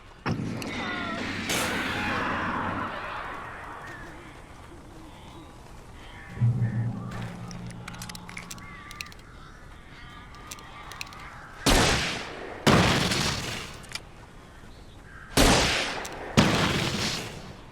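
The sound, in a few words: weird birds attacking, from Alan Wake video game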